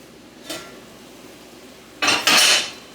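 Metal pots and pans clattering while vegetables cook, a light clink early on followed by a loud double clang near the end, no talking.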